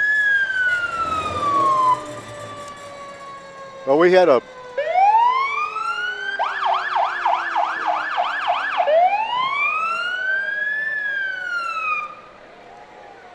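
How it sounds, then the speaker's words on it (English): Fire truck sirens wail and yelp up close during a hometown Fourth of July parade in Waupaca, rising and falling in long sweeps with a brief burst of rapid yelping, while a voice speaks briefly early on. "they have very good sirens, too"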